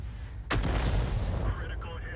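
A single heavy artillery shot booms out in World of Tanks, a sharp loud blast followed by a long rumbling decay with faint game noise after.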